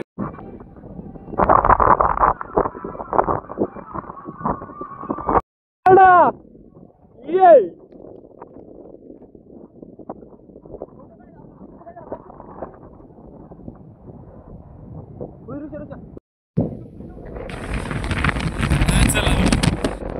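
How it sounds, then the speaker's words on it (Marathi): Gusty wind buffets the microphone with a rushing roar during heavy rain at Visapur Fort, while people talk over it and brief bursts of other noise cut in. "वाऱ्याचा आवाज बी येत असेल तुम्हाला."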